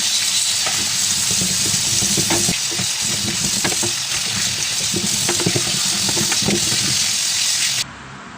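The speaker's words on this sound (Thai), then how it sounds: "เราจะล้างเศษฝุ่น เศษผง สิ่งสกปรกที่เกาะตามผิวมะขามป้อมออกก่อนนะคะ" Indian gooseberries rinsed under running water, a steady rushing hiss with scattered splashes and knocks of the fruit, close and continuous until it cuts off near the end.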